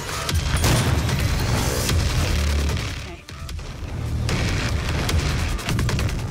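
Rapid booming weapon fire aimed at a boss in the Doom video game, dense bursts of shots and blasts that briefly drop out midway before the barrage resumes.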